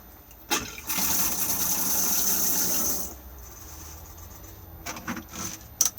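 Water runs and drains from a small caravan basin, a close, steady rushing gurgle lasting a couple of seconds, then fading to a quiet trickle with a few faint knocks afterward.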